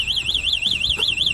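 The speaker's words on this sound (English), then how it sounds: "it's got its own built-in alarm system" A loud electronic anti-theft alarm on an electric scooter wailing in a fast, regular up-and-down siren pattern, continuous and close by.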